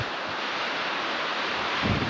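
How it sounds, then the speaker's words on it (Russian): Wind blows along the Crimean coast at Ordzhonikidze, rumbling into the microphone over continuous surf, with a stronger gust toward the end. "Ух, ветер. Ветер начался."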